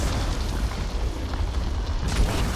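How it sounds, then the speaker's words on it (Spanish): Explosions in the Mass Effect 2 video game, heavy booming blasts and rumbling that fill the whole clip at high volume, with a sharper burst near the end and no talk. "Estas explosiones no estaban en el 1"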